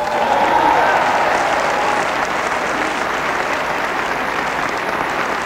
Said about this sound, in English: Clap your hands for joy.